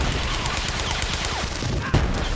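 Dense, continuous gunfire from the video game Borderlands 3, loud and sustained with rapid overlapping shots and one heavier blast near the end, no speech over it.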